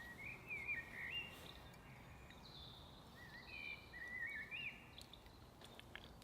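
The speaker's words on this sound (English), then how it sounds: "Can you guys hear the birds?" Birds chirp and sing outdoors beside a riverside campfire cooking spot, with faint high tweets and short song phrases drifting in and out over a soft, steady background hum of wind and distant insects.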